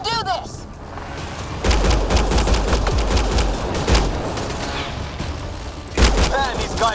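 Rapid bursts of gunfire in the video game Mass Effect Andromeda, dense automatic volleys with booming low thuds, loud and close, broken by short pauses and in-game voices shouting between the bursts.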